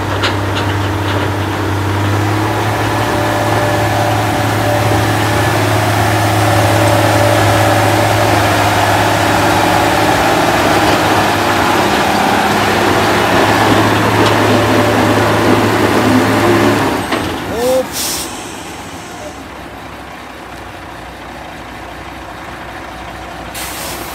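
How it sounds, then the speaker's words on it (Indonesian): A Quester trailer truck struggling on a steep climb roars loudly and steadily with its engine laboring, then a sharp hiss of air brakes releases near the end and the engine drops to a quieter idle. "Ini ada truk trailer Quester bosku."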